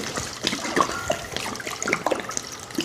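Water trickles and splashes as a little is poured over dried wild black seaweed to soak it, a soft, close pouring with small drips and gurgles and no talking.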